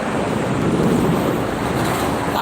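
Strong wind gusts roar against a car on a busy toll road toward Jakarta at night, a dense, continuous rush of broadband noise with a low rumble beneath and no voices.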